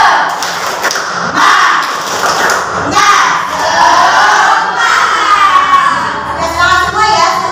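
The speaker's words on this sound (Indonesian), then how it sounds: "sama-sama kita tepuk semangat bersama-sama" A class of children performs the 'tepuk semangat' clapping chant, with loud rhythmic claps and thumps mixed with group shouting that carries on throughout, close and energetic, joined by a voice.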